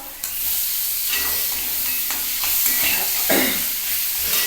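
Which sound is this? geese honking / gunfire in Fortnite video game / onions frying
onions frying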